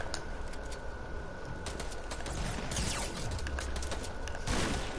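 Gunfire crackles through an online shooter match, with scattered shots and a few quick bursts mixed into steady game ambience, fairly distant and not especially loud.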